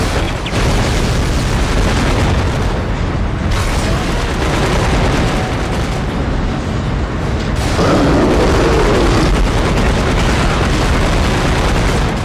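Military ordnance in Dead Space 3 is shot and detonates, producing a heavy, continuous roar of blasts and booming debris that fills the whole stretch and swells loudly partway through, with no talking.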